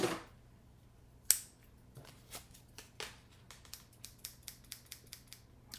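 Paper snips fussy-cut a paper greeting, giving a series of crisp, close snipping clicks that start sparse and grow into a steady, quickening rhythm of short cuts in a quiet room.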